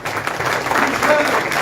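Crowd clapping during a political speech by a politician in Brasília, a steady mass of applause heard at moderate distance, with faint voices mixed in.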